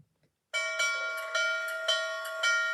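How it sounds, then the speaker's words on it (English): A bright metallic bell from an HO scale N&W Class J 611 model locomotive sound system rings repeatedly at a steady, quick rhythm, clear and close, each strike ringing into the next. "So let's hear the bell."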